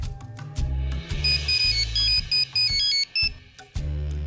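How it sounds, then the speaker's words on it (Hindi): A mobile phone ringtone plays a bright, repeating electronic melody in short bursts, loud and near, with no talk over it. "ये क्यों फोन कर रही है?"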